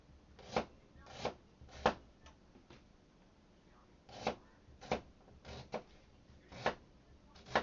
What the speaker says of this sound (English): I'm just going to chop it down